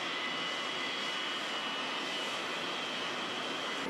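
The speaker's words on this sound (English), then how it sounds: "727 cargo plane." A Boeing 727 cargo plane arrives at Bluegrass Airport, its jet engines a steady, faint broadband roar with a thin whine, unbroken and distant.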